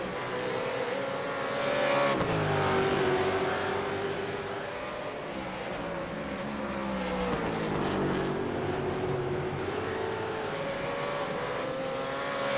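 Race car racing at Oulton Park circuit, a loud engine note climbing and dropping through gears as cars pass close by, a continuous roaring drone with no talk over it.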